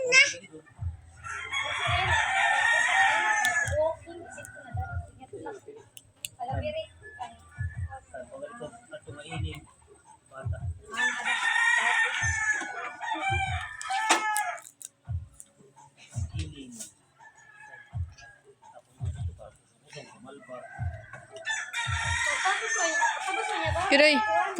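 Rooster crowing in three loud bursts spaced apart, with chickens clucking and rhythmic low knocking thuds running underneath throughout.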